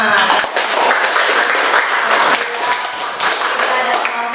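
A classroom of students applauds the student groups who presented, a dense, steady wash of clapping lasting throughout, fairly loud and close.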